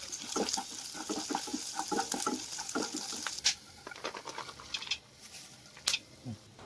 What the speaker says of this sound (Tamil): மறுபடியும் நெய்யை ஆட் பண்ணி சன்ஃப்ளவர் சீட் வாட்டர்மிலன் சீடையும் நல்லா வறுத்துக்கோங்க